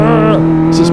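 Engine revving hard in Car Mechanic Simulator 2015, a video game, as a car accelerates; a loud, steady tonal drone with harmonics that dip and settle briefly, with short bursts of hiss toward the end, alone without talk.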